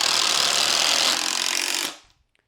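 Metabo and Sata impact drivers race to sink 4-inch timber locks, a loud dense hammering buzz that runs for about two seconds, then cuts off abruptly into near silence.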